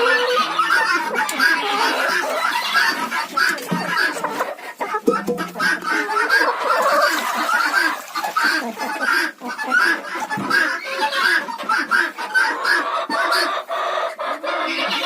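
A flock of chickens clucks and squawks constantly, a dense, noisy chorus of overlapping calls close by, in a village in Ukraine.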